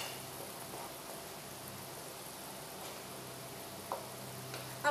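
Masala for bhindi masala fries in a pan over a medium-low flame, a soft, even sizzle that holds steady throughout with a couple of faint clinks.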